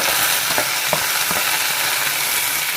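Onion frying in a pan with cinnamon stick and chillies, a steady sizzle of frying with a few soft spoon scrapes against the pan, close and continuous, no talking.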